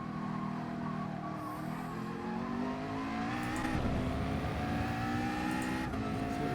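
A race car in Gran Turismo Sport runs flat out at top speed during an FIA online race, its engine a steady, loud, high-pitched drone with shifting tones throughout and no voices.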